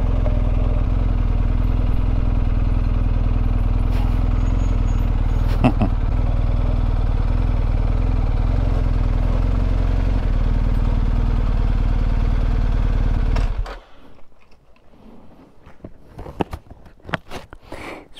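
Steady low engine rumble and wind roar from a BMW 1250GS motorcycle on a road trip through France hold for about thirteen seconds, then cut off abruptly, leaving quieter scattered clicks and clatter.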